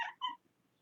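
A pet cat named Amber gives two short, close meows, the second slightly longer, followed by faint quiet rustling.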